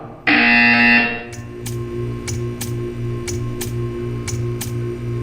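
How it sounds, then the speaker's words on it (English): A loud steady electronic buzzer in the game Portal 2 blares for about a second, then a quieter repeating tone pulses in an even rhythm beneath sharp periodic clicks. "You will hear a buzzer."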